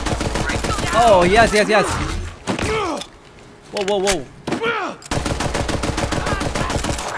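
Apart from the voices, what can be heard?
gunfire in the video game Borderlands 3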